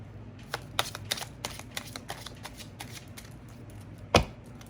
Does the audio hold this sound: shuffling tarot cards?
yes